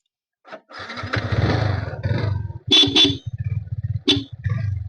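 Yamaha R15 V3 2021 motorcycle starting up and idling, a close engine rumble with a steady low throb broken by a couple of revs and short pauses.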